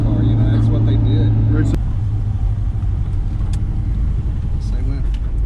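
Plymouth Roadrunner classic muscle car engine, a deep rumbling idle with a louder opening stretch that cuts off abruptly, then a steady low throb with faint background noise.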